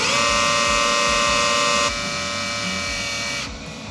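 A welder's wire feed motor whines steadily and loudly while new wire is loaded for a 1986 Toyota Land Cruiser FJ60 restoration, then drops to a lower hum after the speed mode is switched off.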